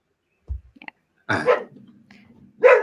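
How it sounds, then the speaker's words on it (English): A dog barks indoors in a few short bursts, with a low thump first and then two louder, sharper barks separated by quieter rumbling. "Oh, my dog's barking again."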